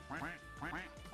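Cartoonish duck quacks from the Roblox game Duck Army come in two quick pairs, loud and close, with nasal, buzzy calls over a low game background.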